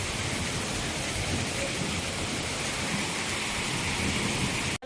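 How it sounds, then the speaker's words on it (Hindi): Heavy monsoon rain pours in a dense, steady hiss with no letup, ending in an abrupt cut. "ये हो रही है बारिश एकदम झमाझम वाली।"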